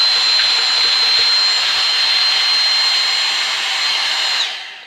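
Dyson V6 cordless vacuum cleaner on its normal setting sucking up a pile of dirt, a loud, steady high-pitched whirring roar that holds evenly for several seconds and then drops away at the end.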